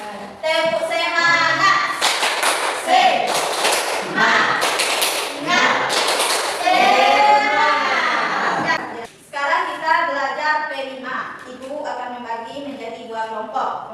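Schoolchildren in a classroom perform a rhythmic clapping chant, bursts of claps and taps in patterned rhythm mixed with chanting young voices, loud and close, with a brief pause before the chanting resumes.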